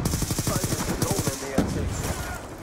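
Rapid automatic weapon fire from a Black Ops 2 match, a dense burst of evenly spaced shots for over a second, then a single louder report amid in-game noise, with a voice talking over it.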